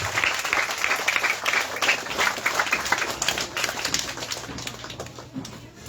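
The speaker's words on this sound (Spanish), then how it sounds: "un fuerte aplauso para esos padres, madres de familia que trabajaron en la calle" An outdoor audience gives loud, sustained applause at a street inauguration ceremony in Livingston, Guatemala. The dense clapping runs steadily before tapering off slightly at the end.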